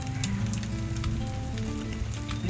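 Egg with salt and coriander sautéing in a pan for egg fried rice, a close, dense and even sizzle of hot oil that stays steady throughout, no voices.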